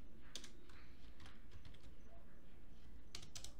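Python code being typed on a computer keyboard, with scattered quiet key clicks and a few quick bursts of keystrokes over a faint room hum.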